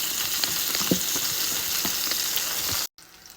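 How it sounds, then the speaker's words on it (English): Spring onions sizzle in hot coconut oil in a pot, a loud, close, continuous crackling fry with a few spoon clinks, cutting off abruptly near the end. "spring onions, scallions, let's get them in the pot"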